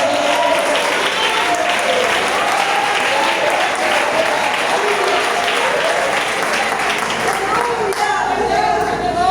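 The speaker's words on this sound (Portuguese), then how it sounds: "Pode aplaudir o nome do Senhor." A church congregation applauds together during a sermon, steady dense clapping at full volume throughout with no pause, a voice heard over it.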